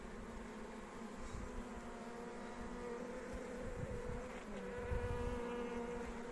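Steady droning buzz of many honeybees close by, fully covering a hive frame with a Buckfast queen, continuous and even throughout, with a faint low hum underneath.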